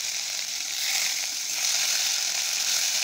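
Onion paste sizzles in hot mustard oil in a wok with cumin seeds, a steady close hiss of frying that holds even throughout with no voices.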